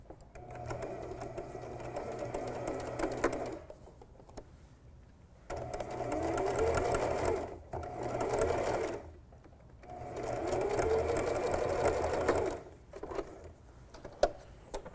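A sewing machine stitches together the fabric pieces of a little mouse ornament in three sustained runs of rapid, humming stitching separated by brief pauses, close and steady.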